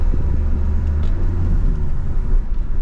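A car engine drones steadily and close after shifting into third gear, a loud low rumble with road noise from inside the moving car during a driving lesson, with no talking.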